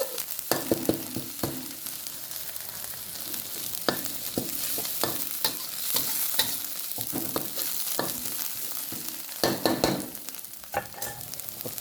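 Field rat stir-fried with spice paste in a hot pan: steady sizzling and frying under repeated close scraping and tossing strokes of a spatula, with clusters of sharper clanks.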